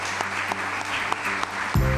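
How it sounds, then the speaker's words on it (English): Audience applause for candidates, a steady wash of clapping at moderate level under a background tone, cut off abruptly near the end by another sound. "A round of applause for our candidates."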